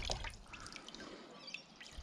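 Water being tipped out of a container, leaving faint, scattered drips and light splashes against a quiet background, soft and close with small irregular patters.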